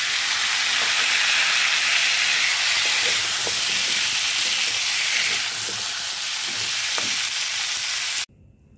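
Drumstick stalks frying in oil in a pan for a home-cooked curry with pumpkin, soybean and fish head, a steady bright sizzle and hiss with faint stirring clicks, ending abruptly.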